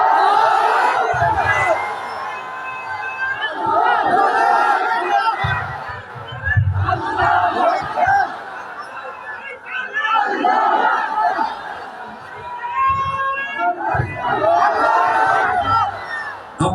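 A large crowd at an outdoor Islamic concert in Bhogra Bazar loudly chants the Nara-e Takbir in repeated, roaring waves, about four rounds, each swelling and falling with a brief lull between.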